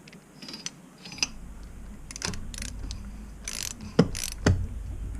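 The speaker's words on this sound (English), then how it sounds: "So I got the wrench on there, holding the 14mm lock nut, and I'm loosening up the cap." Wrench loosening a 14mm lock nut on the fork cap of a Honda CRF150R front suspension, giving a few sharp metallic clicks and clanks with a louder knock near the end, close up, with no talk.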